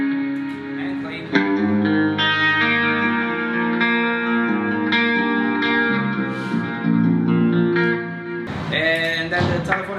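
Clean electric guitar tone from a touring metal guitarist's rig, played as sustained chords and single notes with light chorus and reverb, steady and close for about ten seconds with no talking.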